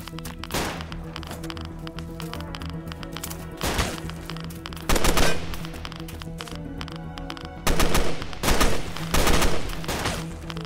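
Gunfire in the video game Fallen Survival, with dense automatic bursts rattling through the whole stretch and louder volleys landing in clusters, while players shout over the shooting.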